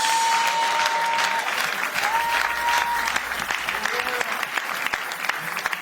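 A congregation applauds and cheers in worship at a church gathering, with steady dense clapping throughout, a few whistles and shouts rising over the crowd.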